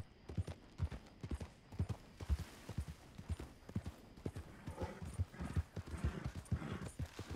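Horse hooves clip-clop at a rapid galloping rhythm in the video game Red Dead Redemption 2, the strikes fairly quiet and steady, with faint background ambience.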